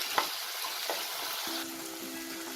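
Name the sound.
chopped tomato frying in pan with ginger and garlic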